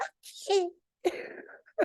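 A small, close sneeze comes from a person, a short high burst between quiet gaps, followed by soft voiced sounds.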